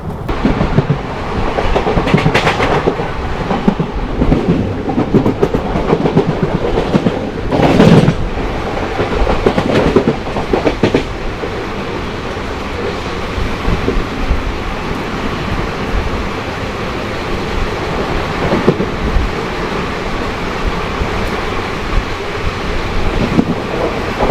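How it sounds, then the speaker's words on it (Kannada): Vishwamanava Express running from Hubli toward Bengaluru, heard from aboard as a loud, continuous rumble with rhythmic clacking of wheels over rail joints and gusts of wind noise, no voices. "ನಮ್ಮ ಟ್ರೈನ್ ಇವಾಗ ತಲುಪಿದೆ ರಾಣಿ ಬೆನ್ನೂರು ರೈಲ್ವೆ ಸ್ಟೇಷನ್ಗೆ"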